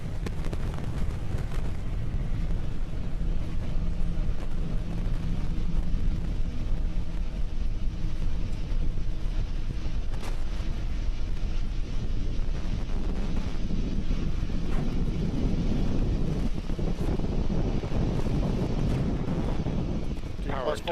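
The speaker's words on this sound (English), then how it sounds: "We're currently throttling down the 9 Merlin 1D engines on the first stage" A Falcon 9 rocket climbs in flight on its nine Merlin 1D first-stage engines. A continuous, wind-buffeted low roar fills the whole stretch, with faint voices beneath it.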